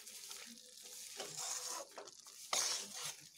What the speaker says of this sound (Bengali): আমি এগুলোকে একটু ভালোভাবে কষিয়ে নিচ্ছি।